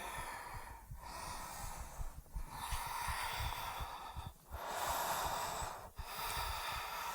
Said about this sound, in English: Take a few more rounds of breath here.